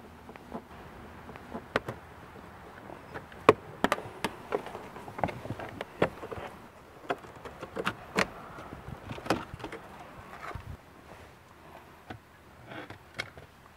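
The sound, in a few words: removing car dashboard top cover and air vent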